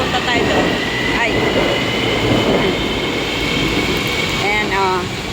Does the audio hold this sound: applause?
no